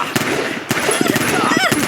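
Rapid video-game gunfire from a weapon in a 2D side-scrolling battlefield shooter, loud bursts of shots repeating through the clip, with talk layered over the action.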